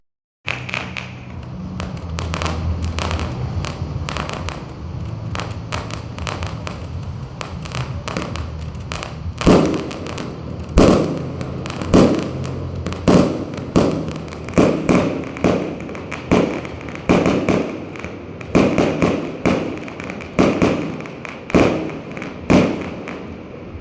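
A steady rumble of fireworks, then a rapid run of loud, sharp bangs and crackling bursts, one after another, in the second half, from two sets of fireworks.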